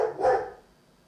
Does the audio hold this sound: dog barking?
yes